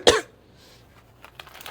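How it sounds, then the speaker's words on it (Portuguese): A single sharp cough from someone with the flu bursts out close and loud, then fades to near quiet with faint breathing and small shuffling sounds afterward. "Muita tosse, gente. Muita gripe por aqui."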